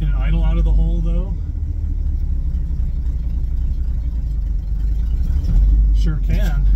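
An old Ford farm truck idles along in granny low gear with a steady, loud low engine rumble, with a voice briefly over it at the start and end.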